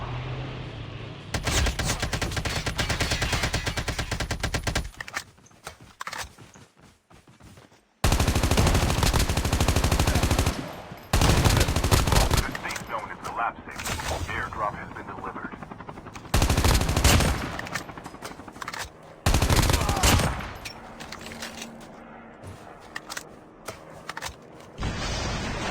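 Rapid bursts of automatic gunfire from Call of Duty Mobile battle royale, loud sustained volleys broken by short pauses, several separate bursts across the stretch.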